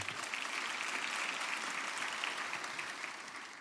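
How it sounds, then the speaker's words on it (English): Audience at a University of South Africa autumn graduation ceremony applauding the sign language interpreter, a steady wash of many hands clapping from a large crowd in a hall, holding evenly for a few seconds before easing off slightly at the end. "Can we give her an applause?"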